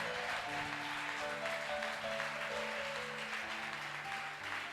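A church congregation applauding, with dense sustained clapping filling the room at moderate level alongside a held organ or keyboard chord.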